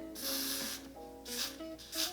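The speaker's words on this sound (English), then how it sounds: "we are going to spray it" Three bursts of hissing hair spray from an aerosol can onto a wig, the first long and the others shorter, with soft music playing underneath.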